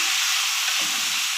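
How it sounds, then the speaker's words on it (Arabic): Rice and lentils sautéed in a pot with browned vermicelli for Egyptian koshari give a steady, close sizzle and hiss that runs unbroken, with some soft stirring at the low end. "نزلنا بالرز والعدس مع بعض ندي الرز بتاع تشويحه"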